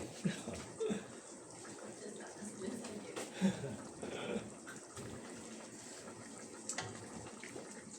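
Water splashes and gurgles into a container holding leftover spice paste for a quick beef and bone soup, with intermittent sloshing from shaking, faint and close.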